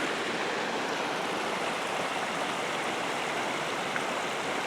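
Water rushing steadily in Gulick Creek beside a road near Black Mountain, a dense, even, broadband roar heard close up throughout, unbroken and without talk.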